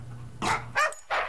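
Several sharp dog barks at a doggy daycare, three loud close yaps in quick succession with short gaps, heard alone.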